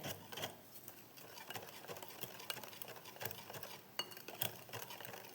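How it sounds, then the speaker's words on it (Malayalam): Cake batter for a banana cake, mixed with sunflower oil, is stirred in a bowl, giving repeated soft scraping and clinking strokes at close range with no talk. "കുറച്ച് സൺഫ്ലവർ ഓയിൽ ഒഴിച്ചു അപ്പം എല്ലാം കൂടി ഞാൻ മിക്സ് ചെയ്യുന്നുണ്ട്"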